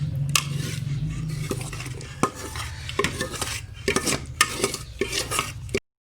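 A spoon stirs an egg and roasted gram flour mixture in a pan, giving repeated scraping and clinking strikes against the metal with a soft background sizzle, close and uneven in rhythm.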